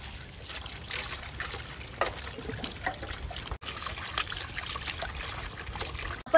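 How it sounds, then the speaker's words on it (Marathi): Raw chicken is rinsed under running water in a kitchen, with a steady close trickle and splash of water continuing throughout and a brief pause midway. "आपण चिकन 2 ते 3 पाण्याने स्वच्छ धुवून घेणार आहोत"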